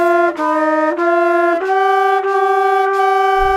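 A woodwind or brass instrument plays sustained notes deliberately out of tune, the pitch wavering and sliding slightly within each held tone, several phrases with brief breath breaks, close and loud, a low thump at the end.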